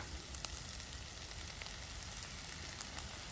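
Egg and rice frying together in a hot pan for simple egg rice, giving a steady, dense sizzle that crackles evenly throughout with no voices.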